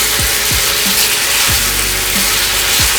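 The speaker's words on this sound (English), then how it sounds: "You love hearing that sizzling sound." Steady, loud sizzling of beef frying in a hot pan with sauce, a constant crackling hiss with a few clinks of a utensil stirring.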